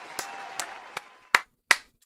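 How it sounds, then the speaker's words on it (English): Five sharp hand claps spaced out irregularly, the last two louder and crisper, against a quiet background. "That deserved a round of applause."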